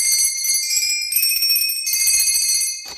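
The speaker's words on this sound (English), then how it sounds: "rang the bell." Bright, ringing doorbell chimes sustain steadily with a shimmering tone, ending on a short knock-like hit near the close.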